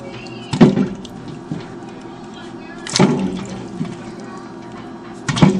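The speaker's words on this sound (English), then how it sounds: "We're gonna drop all the apples in here." Apples drop one after another into a pot of cooled water in three separate splashes spread a few seconds apart, each a close, brief plunk over faint background noise.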